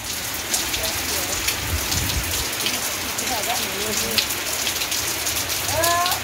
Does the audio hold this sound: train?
no